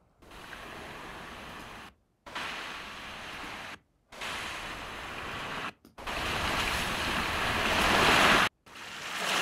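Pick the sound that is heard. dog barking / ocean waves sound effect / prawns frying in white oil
ocean waves sound effect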